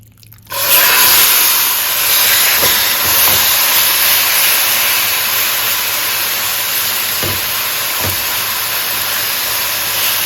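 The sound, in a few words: chicken pieces browning in a hot pot for chicken pelau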